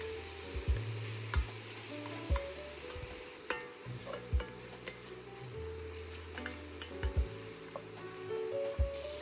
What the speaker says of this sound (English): I've now added butter to my pan for my roux